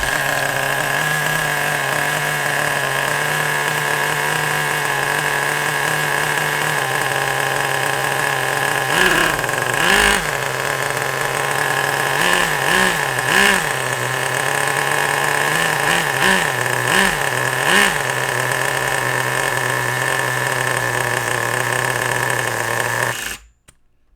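A small nitro RC engine running too rich drones steadily at a high, buzzy pitch, sputtering and burbling unevenly in bursts midway before cutting out abruptly at the end.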